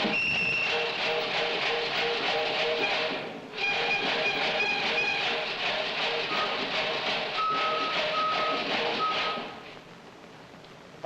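A cinema sound-effects machine mimics a train pulling away, with dense rumbling rattle and several short whistle-like tones sounding over it, loud and close before easing off near the end.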